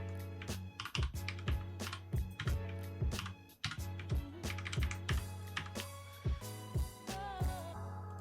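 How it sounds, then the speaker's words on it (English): Fingers tap quickly on a computer keyboard at close range, irregular bursts of crisp keystrokes with short pauses between them. "Let's type it in."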